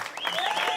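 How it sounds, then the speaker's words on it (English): An audience at the Maltstock festival campfire gathering applauds its volunteers with a steady burst of clapping that fills the whole moment, with voices and whistles mixed in. "Let's have a big applause for all the volunteers"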